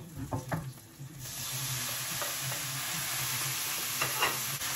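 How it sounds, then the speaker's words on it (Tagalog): Onion hitting a hot pan and sautéing, a steady loud sizzle and hiss that starts abruptly after a few soft clatters and continues evenly, with occasional stirring scrapes. "At ako'y magigisa na po."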